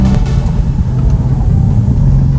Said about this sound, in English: The exhaust sounds so good, you just want to keep downshifting every chance you get.